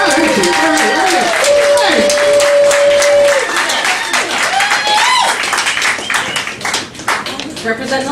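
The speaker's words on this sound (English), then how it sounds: "Please give her a round of applause." An audience at a comedy night in a Richmond, Virginia cafe breaks into loud sustained applause for a comedian coming on stage, the clapping dense and close before tapering off under a tonal hum.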